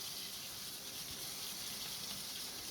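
Steady, fairly faint rush of running water from a tap while a tie-dyed spiral shirt in two colours is rinsed, a continuous hiss with no talking.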